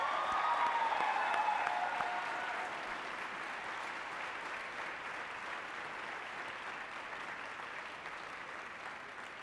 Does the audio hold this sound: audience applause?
yes